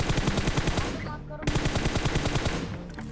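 Rapid automatic gunfire from Battlegrounds Mobile India rattles in loud, close bursts, breaking briefly near the middle before another sustained stream of shots.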